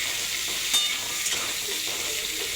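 Boiled potatoes with cumin seeds sizzle in a hot pan as they are stirred, a steady close hiss with soft scraping and tapping from the spoon.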